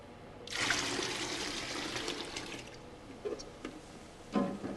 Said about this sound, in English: Got some bourbon next.